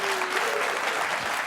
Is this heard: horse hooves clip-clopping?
no